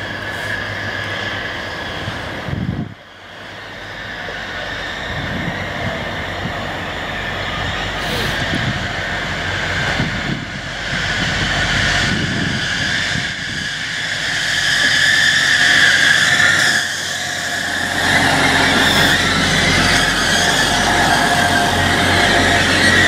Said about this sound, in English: Right, this is our next train.